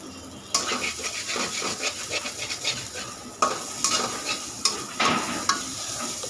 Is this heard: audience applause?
no